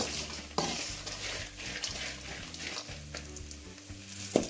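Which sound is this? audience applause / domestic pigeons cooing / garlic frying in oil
garlic frying in oil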